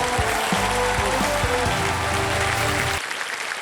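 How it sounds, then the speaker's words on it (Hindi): A game show studio audience applauds for about three seconds, with musical tones sounding underneath before the clapping continues alone briefly. "जोरदार तालियां इनके लिए अगेन।"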